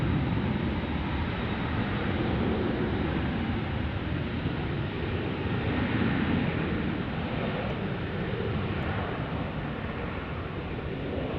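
Heavy jet airliner rumbling at DFW airport, a loud, steady broadband roar that holds for the whole stretch without letup, with no talk over it.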